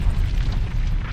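A huge explosion tears through a planet's 19 km thick basalt crust, a deep, rumbling roar that churns and sustains throughout.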